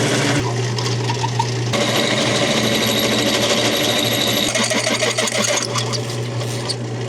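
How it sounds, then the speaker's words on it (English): A large centering drill bores out a hole to just over 0.8 inch for bulkhead clearance, giving a steady, loud, continuous machine whir with a grinding, chattering texture throughout, close up and with no talk. "I have a bigger centering drill that I'm going to run through next because we got to drill this out pretty big"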